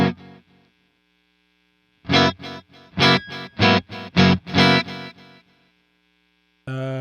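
Distorted electric guitar through the built-in delay effect of an Enya Inspire carbon fiber smart guitar plays choppy rhythmic bursts with repeating echoes trailing after the notes, then stops before a final chord.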